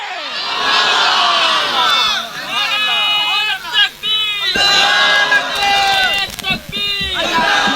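A crowd at a religious gathering shouts a slogan together in loud, rising bursts of massed voices, with overlapping cries between the waves.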